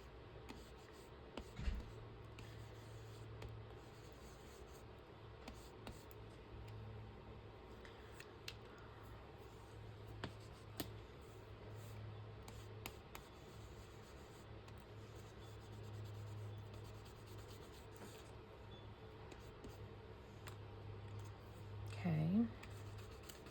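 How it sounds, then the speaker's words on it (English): A black ink pen colors on paper with rubbing strokes, giving a faint, steady scratchy texture with a few sharper ticks and a brief louder noise near the end. "I'm just using black ink on it, but I'm doing it kind of in a rubbing"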